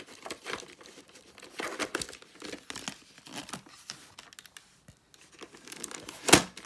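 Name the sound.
unwrapping a VHS tape's packaging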